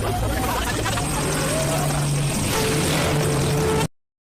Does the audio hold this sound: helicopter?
yes